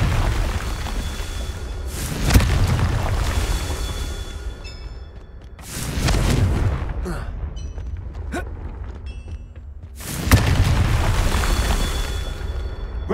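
Confringo spells explode in the Hogwarts Legacy video game, with three booming bursts spaced a few seconds apart, each swelling and fading over a continuous bed of game ambience.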